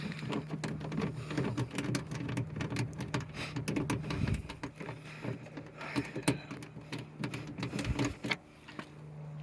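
Socket and extension backing out the door panel screws on a 2022 Kia Sportage right rear door, giving rapid ratcheting clicks and small metallic rattles, close and busy throughout.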